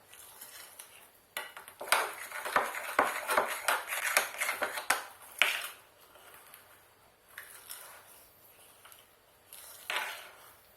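A spoon stirs a thick date and carob chocolate spread in a bowl, with irregular scraping clinks and soft squelches in a busy first half, then sparser taps and knocks near the end.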